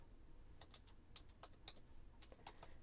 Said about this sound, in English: I'm typing, so it's kind of slow.